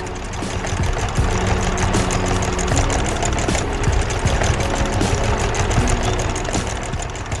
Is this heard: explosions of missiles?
no